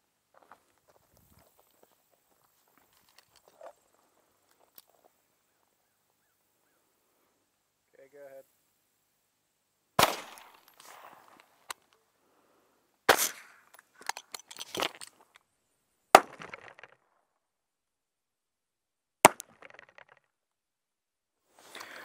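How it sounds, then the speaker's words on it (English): Single shots from a 9mm pistol and a 5.56 rifle fired into cinder blocks, heard as a few sharp, isolated cracks spaced several seconds apart amid near silence, with some faint shuffling and handling noises between them. "So we're going to fire one shot each on the cinder blocks first."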